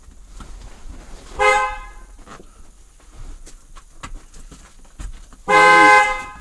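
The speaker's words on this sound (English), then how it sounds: "the horn honking was my arm actually hitting the horn" A 2011 Chevrolet Silverado pickup horn honks twice, two short loud blasts several seconds apart, accidentally bumped during a remote starter installation, with faint rustling and handling noise between them.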